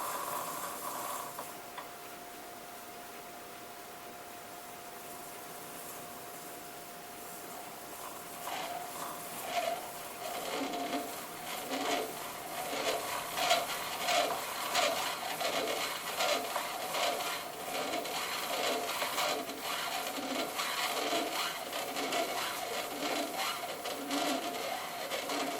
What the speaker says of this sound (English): Right, I'll cut the thread now.